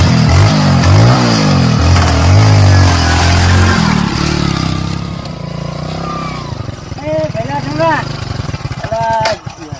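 A motorcycle engine revs in rough low bursts, then settles into a steady idle while people talk loudly over it.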